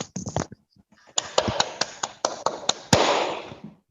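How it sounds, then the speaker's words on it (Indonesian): A short burst of hand claps, then a steady run of about ten sharp, evenly spaced claps, as children applaud in an online primary class. "Tepuk tangan buat kalian semua."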